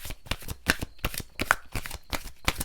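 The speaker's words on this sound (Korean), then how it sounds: "6번 분을 위한 조언 카드 좀 뽑아보도록 할게요" Tarot cards shuffled by hand before drawing an advice card for a reading, a rapid series of crisp riffling bursts repeating in quick rhythm, close and clear with no talking.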